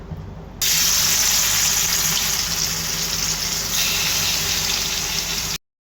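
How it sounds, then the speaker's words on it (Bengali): Fish frying in hot oil in a wok, a loud, steady, broadband hiss that starts abruptly, runs for about five seconds, then cuts off, with no talking. "এবার মাছগুলো ভাজতে দিয়ে দিব।"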